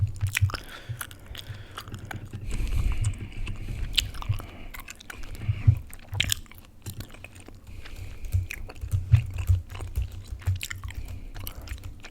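Close, wet gum chewing with soft smacks and squishes in an irregular rhythm, loud and intimate against a quiet background, no talking.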